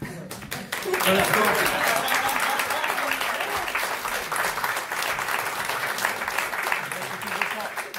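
Theatre audience applauding at the end of a show, a dense, sustained wash of clapping that swells after a brief opening and holds steady and loud throughout, with faint voices mixed in.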